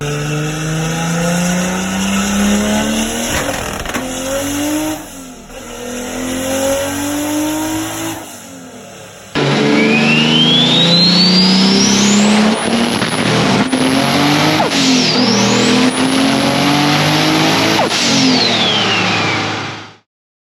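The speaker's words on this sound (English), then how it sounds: "Now time for rolling anti-lag." A Toyota Supra MK3's 2JZ-GTE engine on a dyno revs hard and loud with rolling anti-lag, sharp rising whines and rapid crackling pops, sustained for about ten seconds before cutting off abruptly.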